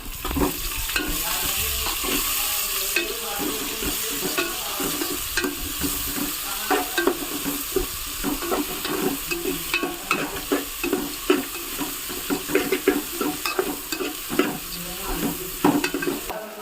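Long sliced onions fry in a pan for an Andhra-style gongura dried prawn curry, a continuous close sizzle broken by repeated scraping stirs and occasional clinks, with no talking.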